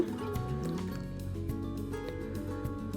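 Water pours steadily into a cooking pot for prawn biryani, a continuous liquid splashing and trickling with a few faint drips, close and moderately loud throughout.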